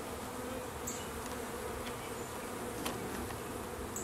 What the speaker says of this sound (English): Maybe I'll try getting a little closer so you guys can hear the bees